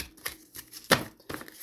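Tarot cards shuffled by hand close up, a few soft riffles and taps in an uneven rhythm with one sharper snap midway, and no talking.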